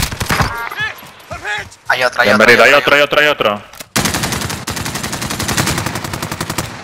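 Rapid bursts of loud gunfire in the video game Call of Duty: Modern Warfare rattle close by, with a voice talking excitedly over the first half before sustained automatic fire takes over.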